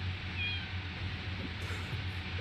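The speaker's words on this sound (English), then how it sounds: "Is that our cat?" A farm cat meowing, a short faint call heard over a steady background hum indoors, with no one speaking.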